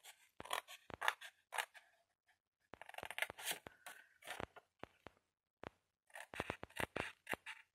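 Scissors snip through cardboard for a box, a quick run of crisp cuts, a pause, then another burst of rapid close snips, with no talking.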